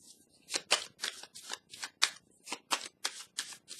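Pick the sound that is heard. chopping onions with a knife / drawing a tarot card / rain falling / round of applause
drawing a tarot card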